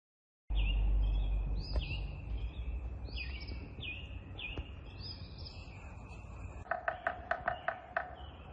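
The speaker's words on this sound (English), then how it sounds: "Somewhere up in that tree is a big old woodpecker." Woodpecker calls ring out from a tree amid outdoor ambience, then a quick burst of sharp, rapid repeated notes near the end.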